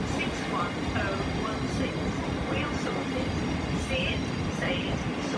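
A train rumbles into Gatwick Airport station on the Brighton Main Line, with a steady low rolling roar, wheel and rail noise, and scattered high metallic squeals and sparks, close and continuous.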